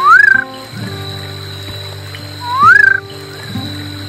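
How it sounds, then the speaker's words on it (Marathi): A Castle Rock night frog calls from a stream near a road, giving two loud, close, rising whistle-like notes a couple of seconds apart over a faint steady background hum. "कॅसल रॉक नाईट फ्रॉग या नावाने हा बेडूक ओळखला जातो"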